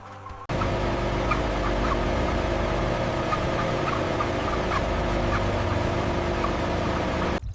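A large turkey flock gobbles on an industrial farm, a dense chorus of overlapping calls over a constant mechanical hum, starting abruptly and staying steady and loud.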